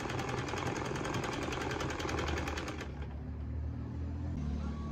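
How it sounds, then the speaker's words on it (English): A sewing machine stitches layers of turban fabric with a fast, even mechanical chatter that stops partway through, leaving a lower motor hum and faint room noise. "This I'm going to sew until I exhaust this material that I'm using."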